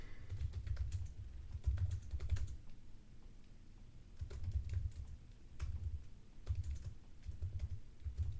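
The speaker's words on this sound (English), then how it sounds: "Let me just type this out to make it easier for me." Close typing on a computer keyboard in several bursts of rapid clicks with short gaps, over a low steady room rumble and without voices.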